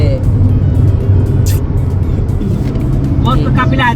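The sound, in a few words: car convoy driving on the road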